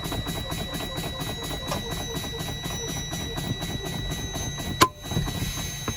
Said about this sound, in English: I'm going to fan down to about 30 psi's, and both of these valves should pop out.